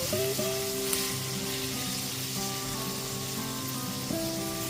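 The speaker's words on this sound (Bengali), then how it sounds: "পেঁয়াজ কুচিটা লাল করে ভেজে নেব" Chopped onion frying in oil until browned, a steady, even sizzling hiss running throughout under soft background music.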